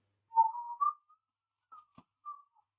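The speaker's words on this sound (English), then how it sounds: "He's got this weird thing where he really doesn't like whistling." A person whistles a few short, faint notes: a sliding tone, then a pause and two brief chirps, alone in an otherwise quiet space.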